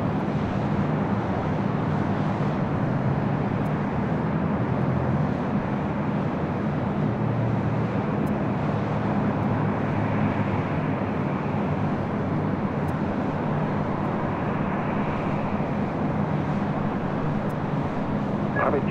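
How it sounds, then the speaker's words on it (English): A British Airways Boeing 777-300ER rolls for takeoff on runway 25 right at LAX, a steady broad roar of jet engines heard from a distance, continuous and unchanging without speech. "Speaking of Speedbird, the 777-300ER heading back to London, now rolling down"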